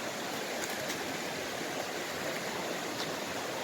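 River water rushes over large rocks beside muddy forest banks, a steady, fairly faint broadband wash with no pauses.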